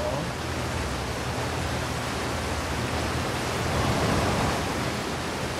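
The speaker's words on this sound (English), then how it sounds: "there's a way across through a waterfall" A waterfall in the video game Outer Wilds gives a steady, broadband rushing roar that holds even and unbroken throughout, moderately loud with no other sounds.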